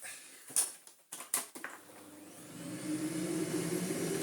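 A Miele Blizzard vacuum cleaner, restored, starts up after a few clicks and handling knocks, its motor rising into a steady whirring roar that grows louder and holds, with no talking.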